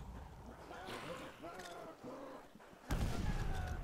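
Grenade blast in a Call of Duty custom zombies map, a sudden loud burst near the end following game sounds and voices.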